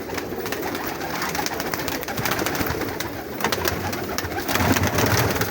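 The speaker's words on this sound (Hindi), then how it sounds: "सारे प्रिंस कमगर कबूतर हैं" Prince Kamagar breed pigeons cooing in a loft setup, a dense continuous chorus of low murmuring coos and wing rustles throughout, fairly close and steady, growing slightly louder near the end.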